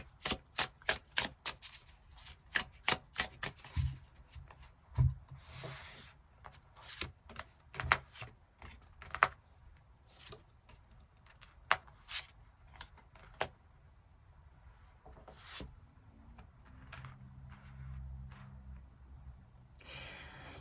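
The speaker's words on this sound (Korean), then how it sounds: "추가 카드 뽑아보도록 하겠습니다" Tarot cards are shuffled and drawn in a rapid series of crisp snaps and riffles that thin out into occasional clicks and soft handling near the end. The sound is close, with no voices.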